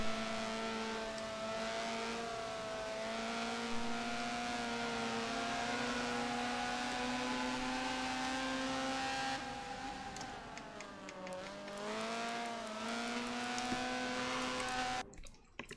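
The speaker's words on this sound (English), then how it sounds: "That car is incredibly quick." A race car engine from a NAFFCAR round in Prague roars steadily at high revs and holds loud throughout, the pitch shifts as it passes by, then it cuts off abruptly at the end.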